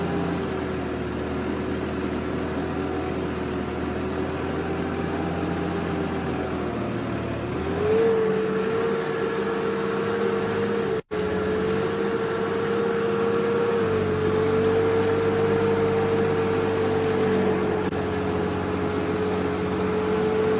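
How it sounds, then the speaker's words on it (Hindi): A tractor engine drones steadily while ploughing a field at the Sirsa ashram. Its low tone shifts slightly upward partway through, with a brief dropout near the middle, and it stays close and constant with no voices. "काफ़ी सालों बाद आज अच्छा लग रहा है ट्रैक्टर को चलाते हुए"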